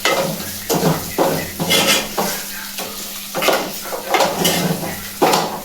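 Pepper chicken masala being stirred in a pan, a spoon scraping and clanking against the metal in repeated strokes over a soft sizzle, loud and close with no talking.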